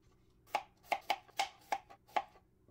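A knife chops potatoes on a board in about six crisp, evenly spaced cuts, close and clear against a quiet kitchen with no talk.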